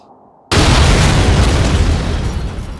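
A shell strikes and explodes in the WWII strategy game Blitzkrieg, set at Kharkov in 1943. Out of near silence comes one sudden, loud, close blast that rolls on into a long, dense rumble as it slowly fades.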